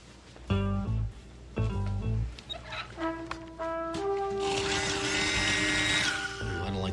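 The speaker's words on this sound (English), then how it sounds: "There's a drill in the suitcase." A power drill from a suitcase whirs in a comedy cop series scene, its high, buzzing whine rising for a couple of seconds over the music, fairly close and moderately loud.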